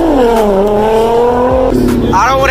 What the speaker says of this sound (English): Oh, it is a GTR.